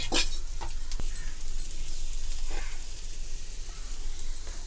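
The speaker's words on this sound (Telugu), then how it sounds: "నెక్స్ట్ మనం నెయ్యి వేసుకుందాం." Ghee sizzling in a hot pan while cooking pesarattu, a soft steady crackle and hiss with a few sharper pops and stirring clicks, close and moderately quiet.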